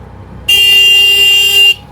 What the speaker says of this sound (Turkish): şu korna sesinden maalesef bugün çok bezdik ya